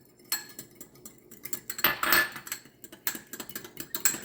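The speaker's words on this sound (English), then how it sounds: "I'm going to get a fork. I'm going to stir this around" A fork clinks and scrapes in a bowl while stirring water, sugar and yeast, giving a run of quick, close metallic taps and swishes with no talking.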